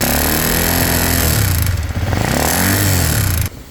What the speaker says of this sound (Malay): RS ni dia datang dengan satu bunyi yang sangat pelik lah.